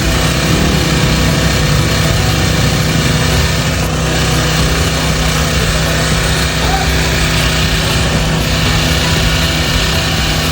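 A portable power generator runs steadily and fairly loud throughout, a constant engine drone with a broad mechanical hum and no pauses.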